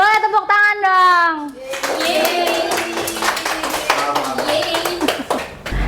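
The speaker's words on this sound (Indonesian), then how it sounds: "Oke, boleh tepuk tangan dong." A classroom of students claps hands in a busy, uneven patter that continues while voices talk and call out over it.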